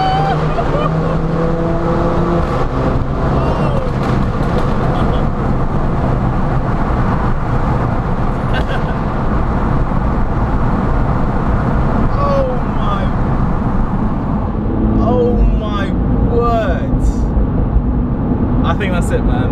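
A loud F56 MINI Cooper JCW engine and exhaust while driving, a steady heavy drone with rising and falling revs, close inside the car, with speech over it.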